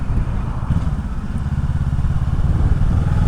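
A 2021 Kawasaki Ninja 650 KRT motorcycle fitted with an Akrapovic exhaust gives a steady, loud, low engine rumble with a continuous throb and no talk.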